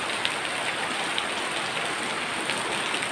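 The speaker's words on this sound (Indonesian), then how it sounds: "Kebetulan hujan sangat deras sekali ini di rumah" Heavy rain pours steadily at night on a house beside a cemetery, a dense, even hiss with scattered drops and no voices.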